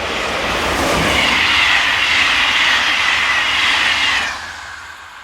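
French SNCF class 26000 electric locomotive 26024, in all-over grey livery, hauling a northbound passenger train from Brive, roaring loudly past nearby with a sustained rushing rumble that fades after about four seconds.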